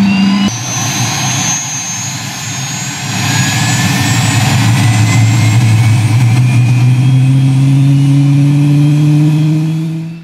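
A Cirrus Vision SF50 single-engine jet starts up: a steady, loud turbine roar with whining tones that slowly climb in pitch as the engine spools, alone with no talk, cutting off at the end.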